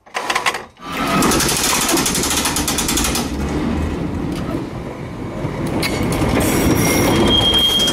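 A Nowa Huta tram rolls along its rails close by, with a loud, continuous clatter and wheel rumble, and a thin squeal of wheels on track rising near the end.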